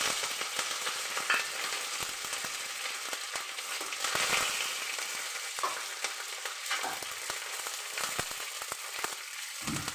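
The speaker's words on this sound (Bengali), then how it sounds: "এবারে দেখুন আমি তেলের মধ্যে মেথি, জিরে আর সর্ষে ফোড়ন দিয়ে দিলাম। এর মধ্যে কারি পাতা দিয়ে দিলাম।" Fenugreek, cumin and mustard seeds with curry leaves spluttering in hot oil for a tempering, a loud, close crackling sizzle with sharp pops scattered throughout.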